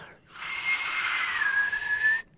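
A breathy, airy whistle held for about two seconds, mostly hiss with a thin, steady tone running through it, close and fairly quiet.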